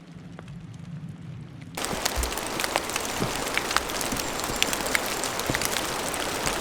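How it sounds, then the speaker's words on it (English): Steady rain falls near the Middle Fork Snoqualmie River, a dense hiss of drops that starts softer and swells abruptly into a louder, continuous patter with scattered sharp drips close by. "It's raining pretty good right now"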